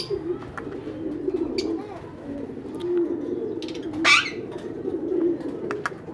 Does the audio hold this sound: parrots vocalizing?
yes